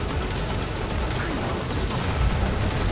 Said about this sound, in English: That's a pretty solid cannon shot there